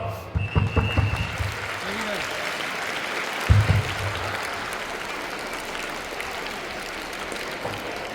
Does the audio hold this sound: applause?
yes